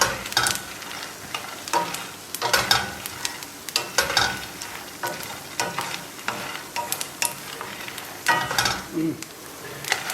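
Peanuts roasting in a pan are stirred steadily with a utensil, giving a continuous sizzling, frying hiss broken by repeated scraping and rattling strokes that rise and fall throughout. No one speaks.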